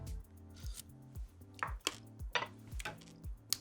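A spoon stirs a passionfruit kombucha mix, giving faint, scattered clinks and scrapes against the vessel over soft background tones.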